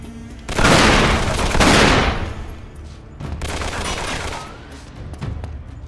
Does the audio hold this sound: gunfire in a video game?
yes